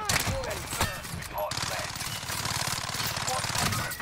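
Rapid automatic gunfire from Call of Duty Warzone rattles continuously for several seconds, dense and close, with bursts running together into a steady stream and a sharp crack near the middle.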